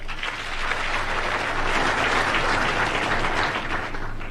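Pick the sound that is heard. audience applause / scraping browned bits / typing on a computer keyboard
audience applause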